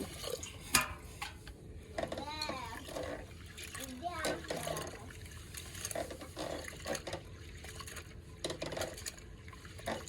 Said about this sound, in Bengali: ডালগুলো আমি ধুয়ে দেব